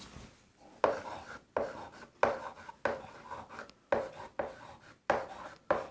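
Chalk or marker scrapes across a classroom board in short, repeated strokes, each a crisp scratchy burst separated by brief pauses, close and moderately quiet while quadrants are written out during a trigonometry lesson.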